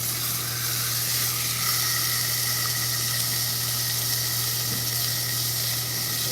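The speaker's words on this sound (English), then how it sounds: "We're gonna add our mortadella to the pan." Slices of mortadella sizzle in a hot pan for a sandwich, giving a constant bright hiss and spitting crackle. A low steady hum runs underneath, and no one speaks.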